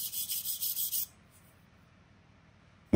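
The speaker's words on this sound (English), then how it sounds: "Then we'll scrape it off with a wire brush." A wire brush is scrubbed over a metal stove structure in about seven quick, raspy back-and-forth strokes lasting roughly a second, then near silence follows.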